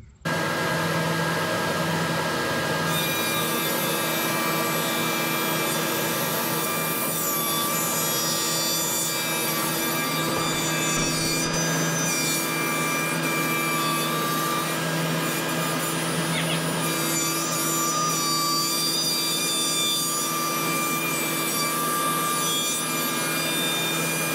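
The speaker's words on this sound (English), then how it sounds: "I sawed it in half and it's relieving some of the tension" A handsaw cuts a wooden log in half, a steady rasping stroke rhythm running close and loud for over twenty seconds without talk.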